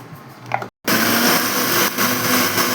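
Electric mixer grinder running steadily and loud as it grinds coconut and sambar onions into a smooth paste, with a short pause before the motor starts again.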